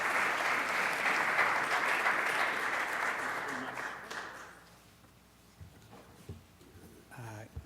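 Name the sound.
audience applause for keynote speaker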